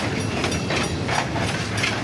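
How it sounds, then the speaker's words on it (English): An Escanaba & Lake Superior Railroad train, locomotive 502, heading south through heavy snow, gives a loud, continuous rumble and rolling clatter that stays steady throughout, with no voices. "Escanaba Lake Superior Railroad heading south on a very snowy day."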